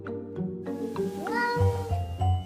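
A pair of house cats in Seattle meow repeatedly at close range, and one cry rises into a longer wavering call. Low rumbling background sounds sit underneath.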